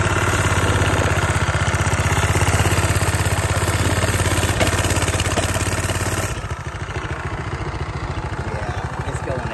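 Mini trail bike fitted with a swapped-in Predator 212cc engine, revving loud and close with a steady raspy drone that drops to a rougher, lower idle toward the end.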